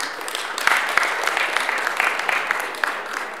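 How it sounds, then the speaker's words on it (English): An audience at a Pan-African product launch event claps steadily, a dense, even patter of many hands across the hall with a couple of sharper close claps near the start. "a big applause for them"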